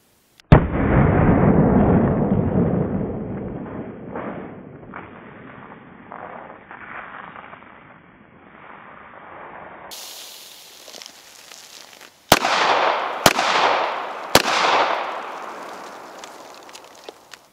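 Outdoor 9mm pistol and 9mm rifle shots fired into a row of 2-liter bottles: one loud blast with a long rolling echo, then three sharp cracks in quick succession.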